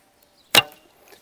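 A heavy arrow leaves a Crimean Tatar laminated bow with one loud, sharp snap of the string and a short trailing rattle in an otherwise quiet setting.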